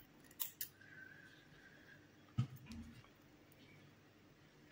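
Scissors snip through yarn while finishing a crocheted amigurumi plush rabbit, giving two quick close snips followed by a softer click a moment later in a quiet room.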